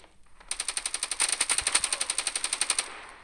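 Rapid automatic gunfire in the video game Standoff 2 rattles in a steady burst of about twenty shots, sharp and close, lasting a couple of seconds before cutting off.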